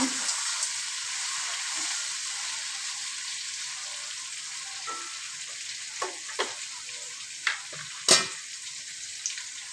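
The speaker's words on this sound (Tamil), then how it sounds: "இந்த தக்காளி நல்லா ஒரு வாட்டி கலை வச்சுக்கோங்க" Tomato frying in a pan for a bitter gourd dish, a steady bright sizzle with a handful of spoon scrapes and clacks as it is stirred, the last few louder.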